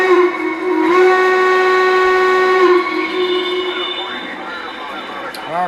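The steam whistle of a Y6 model train locomotive sounds in long, sustained, harmonic blasts: one steady hoot and then a shorter, wavering toot that trails off.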